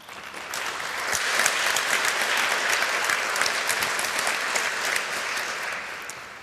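A conference audience gives a warm round of applause for a speaker about to talk on safe cities, steady dense clapping that swells and holds, then tapers slightly.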